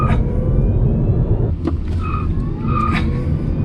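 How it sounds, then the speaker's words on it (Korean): Tires squeal under wheelspin from a 204-horsepower Hyundai Kona EV accelerating hard, with short high squeaks over a loud, constant rumble of road and tire noise, no voices. "끼익 소리 내는 휠스핀 현상을 볼 수가 있는데요"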